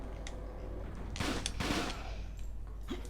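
Video game gunfire from the brawler Fighting Force 2: a few sharp, loud shot bursts cluster in the middle over a steady noisy game background, with scattered fainter cracks before and after.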